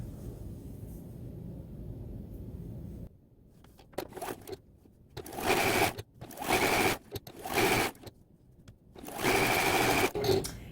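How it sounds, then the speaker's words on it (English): A sewing machine stitches quilt blocks together in several bursts of fast, even whirring, close and loud, separated by short quiet pauses. "Grab the first block, grab the second block, and sew those together."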